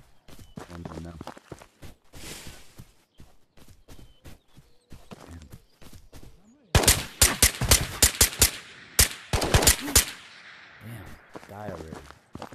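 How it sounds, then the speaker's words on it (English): Loud, rapid automatic gunfire in the VR shooter Ghosts of Tabor, with earlier scattered single shots and footsteps building to a dense burst of cracks midway, and someone talking between the volleys. "Where am I getting shot from?"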